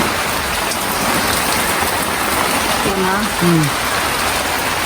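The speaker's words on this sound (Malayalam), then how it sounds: "വലിയ കട്ടിയില്ലെങ്കിലും മഴ നിന്നിട്ടില്ല. പെയ്തുകൊണ്ടിരിക്കാണ്." Steady rain falls throughout as a dense, even hiss, with a few short tonal chirps briefly rising above it near the middle.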